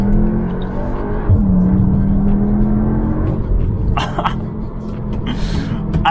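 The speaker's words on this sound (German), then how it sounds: "Kurven nehmen geht mit diesem Auto sehr schnell" A 310 hp Cupra Formentor is driven hard through curves, its engine a low, steady rumble heard from inside the cabin, with brief bursts of a voice on top.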